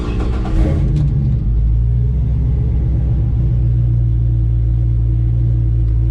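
A Chevy C10 pickup's engine idles with a loud, steady low rumble close by, opening with a brief rev before settling into an even, throbbing idle.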